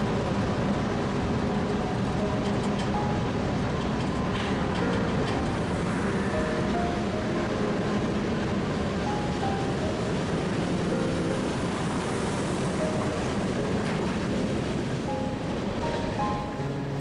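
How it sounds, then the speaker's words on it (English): A daily manifest freight train runs through the mountains in British Columbia, a steady distant rumble and roar with faint wheel squeals, continuous and unchanging throughout. ".400 is a daily manifest train"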